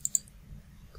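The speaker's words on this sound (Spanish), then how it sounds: "Damos un clic aquí" A computer mouse clicks twice in quick succession at the start, close and crisp, followed by near-silence with a low background hum.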